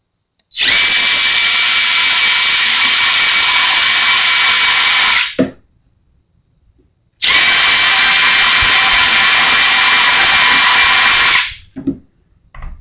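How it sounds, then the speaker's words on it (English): A power drill drilling plastic on a Fender Telecaster guitar runs at a steady high whine in two long bursts of about five seconds each, separated by silence, with faint clicks afterward. "I hate drilling plastic"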